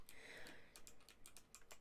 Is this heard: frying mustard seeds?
no